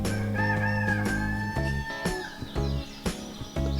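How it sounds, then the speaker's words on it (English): A rooster on a homestead crows loudly and close by in a long, drawn-out call, with further clucking and fowl noises following, and no talking. "It's the muddy rooster I have back there."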